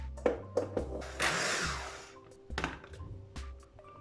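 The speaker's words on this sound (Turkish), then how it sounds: "öncelikle rondoda soğanımızı Şöyle sarımsağımızı ve ben maydanozlarımı da içine atıyorum." A food processor whirs in a short burst chopping onion, garlic and parsley between a few knocks and thumps, then stops and clatters again.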